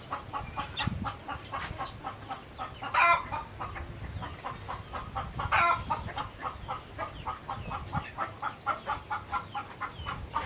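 Chickens cluck steadily in a busy, rhythmic stream, with two brief rooster crows rising above them partway through; no one speaks.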